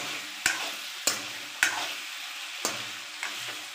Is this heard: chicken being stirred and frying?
yes